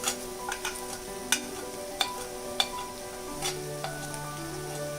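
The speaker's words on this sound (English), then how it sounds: "You can see the onions are half fried." Half-fried onions sizzling in a pan for Bengali mutton kosha, a steady low crackle with several sharp spatula taps and scrapes as they are stirred, close by.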